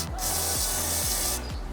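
WD-40 oil hisses from a spray can in one steady, close burst lasting over a second, with quiet gaps before and after.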